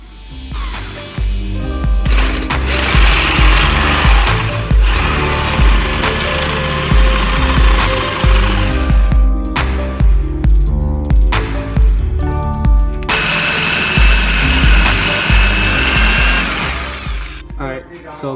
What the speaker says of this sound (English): We had to drill out that bolt in there.